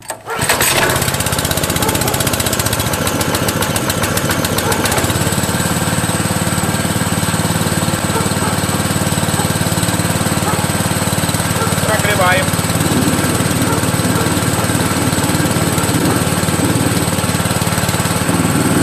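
A small gasoline branch chipper engine starts with a sputter, then runs loudly and steadily at high revs, close by, with a brief voice faintly under it.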